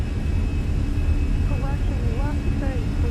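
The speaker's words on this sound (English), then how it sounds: "Takeoff power set." Jet engines of a Fenix airliner at takeoff power in MSFS, a loud steady roar with a high whine, while a voice speaks over it partway through.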